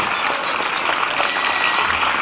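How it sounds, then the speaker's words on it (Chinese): Audience applause in a Chinese television antique-appraisal studio, a dense steady patter of clapping from a crowd, continuous and fairly loud across the whole short stretch. "别鼓掌。"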